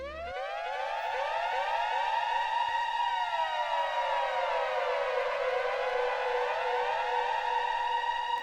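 A Mantatronic siren sound effect used in a song, a sustained wailing civil-defense-style tone with layered sweeping pitches that rise and fall continuously, loud and alone without voices.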